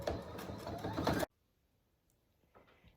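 A sewing machine stitching down the seam of a pet ramp cover, with a dense, close mechanical rattle that stops abruptly partway through, then near quiet with faint small handling noises.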